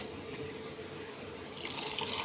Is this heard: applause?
no